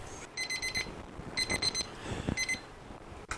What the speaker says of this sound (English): I'm going to set my timer for 5 minutes